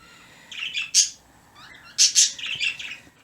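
A pet bird chirps in two quick clusters of bright, close tweets separated by a short pause, with no voices over it.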